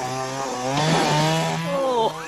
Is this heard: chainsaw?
yes